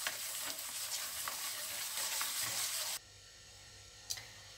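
Ingredients for an apple dessert are stirred in a bowl, a close, steady scraping swish that runs for about three seconds, stops abruptly, and is followed by a single light knock.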